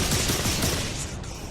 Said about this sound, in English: It's the darkness guns.